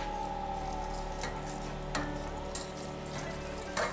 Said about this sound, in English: I'm going to get my whisk and whisk continuously